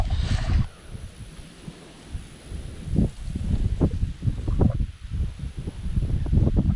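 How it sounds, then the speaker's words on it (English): Gusty wind buffets the microphone beside a drainage canal, a steady low rumble with irregular stronger rushes throughout, no voices. "This wind is getting worse."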